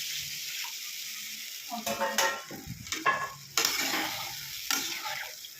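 Water poured into hot spice masala in a pan, cooking fish curry: a steady close hiss and sizzle with clinks of utensils and stirring bursts throughout, loud and alone.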